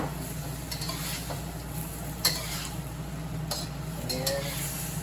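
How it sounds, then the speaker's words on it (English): Fish fillet and tofu go into a pan of ginger garlic sauce and get stirred, giving a soft steady sizzle with a few sharp scrapes and clinks of the utensil against the pan. "Now we add in the tofu and the fish."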